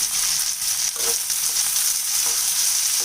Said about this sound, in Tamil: இப்போ இந்த வெங்காயம் நல்லா வதங்கி வரட்டும் வெங்காயம் வதங்குறதுக்கு கொஞ்சமாக உப்பு சேர்க்குறேன்